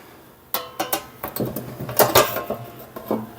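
A metal belly pan being refitted to the underside of a snowblower, giving a run of sharp clanks, knocks and scrapes of sheet metal against the frame, close and fairly loud with short pauses between hits.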